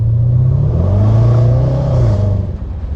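A 2016 Range Rover Sport SVR's 5.0 V8 exhaust swells in a brief, loud, deep-throated roar during a quick pull, the pitch rising and then easing off as the revs fade, no voices.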